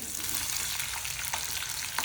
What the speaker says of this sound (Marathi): तेलामध्ये कांदा परतून घ्यायचा पहिला